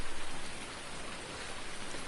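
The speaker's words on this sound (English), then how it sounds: "As the rain hits our face." Steady rain in the Farming Simulator 19 video game, a dense even hiss of falling drops on surfaces, continuous and fairly loud with no voices.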